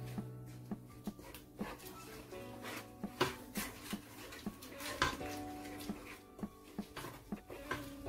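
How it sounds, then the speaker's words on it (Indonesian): A utensil stirs salmon fish soup in a pot, giving soft, irregular clinks and scrapes against the metal, quiet and close, with faint background tones. "Oke, kita aduk dulu biar masak ya."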